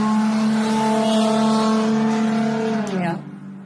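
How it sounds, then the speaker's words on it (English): A car driving by outside, a loud steady engine drone with clear harmonic tones that holds, then drops in pitch and fades as it passes. "Confirmation with the car outside."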